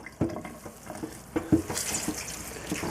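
Water squeezed by hand from spinach drains through a colander in quiet splashy trickles and drips, coming in a few soft bursts close by.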